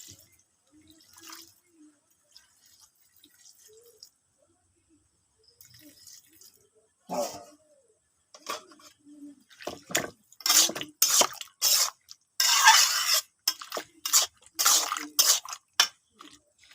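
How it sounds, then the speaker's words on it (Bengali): Water pours and splashes in short, irregular bursts as hands are rinsed after mixing spices, starting as faint drips and growing into louder, close splashing toward the end. "হাত ধুয়ে মশলাটা ধুয়ে পানি দিয়ে দেবো"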